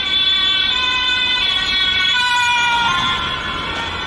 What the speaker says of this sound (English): These are annoying, these sirens are annoying.